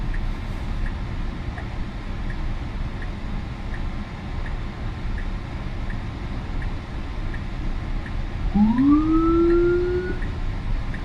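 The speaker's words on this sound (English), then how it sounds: "I think the police car is rushing" A police car siren wails and rises briefly near the end, heard from inside a moving car on the Hoboken waterfront over steady road and cabin rumble.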